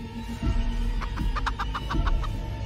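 Giant chicken in the video game Chicken Feet clucking in a quick series of short rhythmic clucks, fairly close over a constant low background hum.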